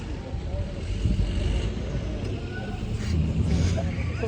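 A Tata dump truck with a 180 HP engine rumbles as it approaches across an earthwork mining site, a steady low engine drone with wind buffeting the microphone and voices talking over it.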